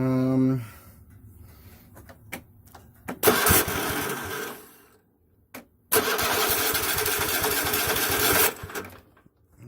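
A Kohler engine swapped into a Craftsman riding lawn mower cranks with short sputters, then catches and runs loudly for a few seconds, cuts out, and roars again for a longer stretch.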